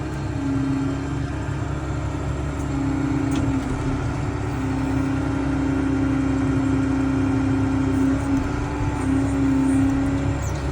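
A farm tractor engine runs steadily near a cattle pen, a loud continuous low rumble with a constant droning hum that barely changes throughout, close to the listener with no talk over it.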